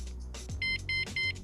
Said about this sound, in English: And now it's alarm protected.